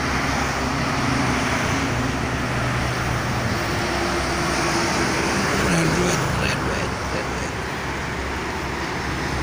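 Steady traffic roar from freight trucks on the Jakarta-Cikampek toll road, a continuous loud rumble of passing heavy vehicles with no pauses.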